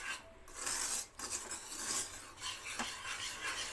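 Ghee is stirred into gram flour in a pan for homemade Mysore pak, producing quiet, close scraping and rubbing strokes of a spoon against the pan, with a faint sizzle underneath.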